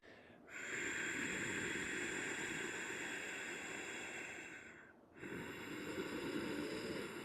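Slow, ocean-like yoga breathing demonstrated up close into a microphone, two long audible breaths with a soft rushing, wave-like hiss and a brief pause between them, with no talking.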